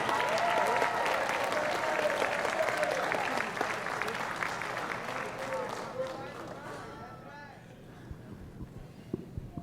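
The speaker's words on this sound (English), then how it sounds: "Let's have a big round of applause for our next Hall of Fame inductees." Audience applause for a Hall of Fame inductee at a university athletic induction ceremony, dense and sustained clapping that fades toward the end, with some voices and cheers mixed in.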